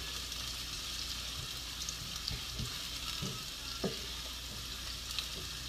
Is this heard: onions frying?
yes